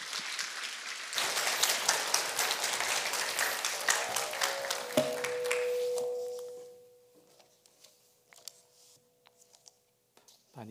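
A church congregation breaks into loud, sustained clapping to welcome a pastor to the pulpit, a dense wash of hands lasting several seconds before fading, followed by a few scattered claps and a steady tone in a quiet room.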